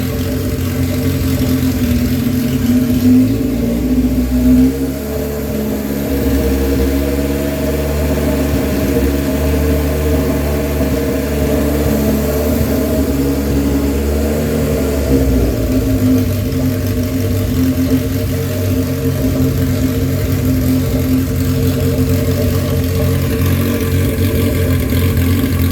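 A 1977 Honda CB750 cafe racer motorcycle engine idles loud and close for a long stretch, holding a steady rumble with slight dips and swells in pitch and no talking.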